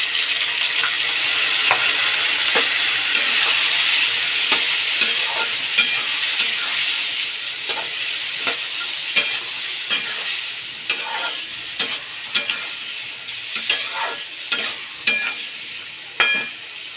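Spices are stirred into potatoes already fried until reddish in a pan, a continuous hiss of frying oil under a series of sharp spatula scrapes and clinks that grow more frequent toward the end.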